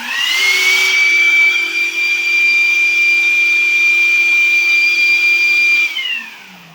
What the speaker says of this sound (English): Both the shop vac and the spindle turns on